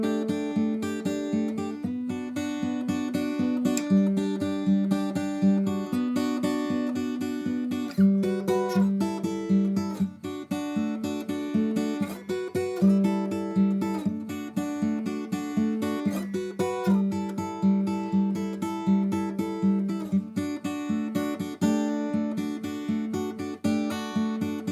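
Acoustic guitar plays the bridge section of a song, a steady rhythmic strumming pattern with repeated chord changes running continuously at an even, close, moderate level, with no voices.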